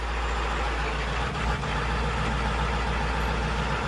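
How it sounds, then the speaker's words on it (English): A pickup truck engine runs steadily after starting and being put in drive, a loud, continuous low rumble close by with a brief deeper surge partway through, no talk. "I'm gonna start the truck, put it in drive."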